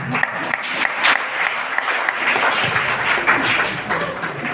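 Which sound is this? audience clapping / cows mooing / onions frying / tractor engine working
audience clapping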